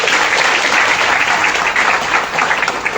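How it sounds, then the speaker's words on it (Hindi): Loud, steady applause from an audience at a DXN program in Dostpur, a continuous dense clapping that fills the whole stretch with no talk over it. "इसके लिए जोरदार ताली होना चाहिए।"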